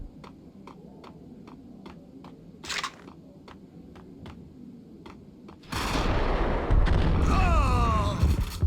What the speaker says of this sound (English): Gonna throw grenades and things